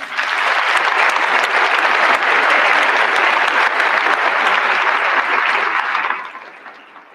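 Large crowd of cadets and guests applauding at a military academy commencement ceremony for the class of 2021, a loud sustained roar of clapping that fades out over the final second.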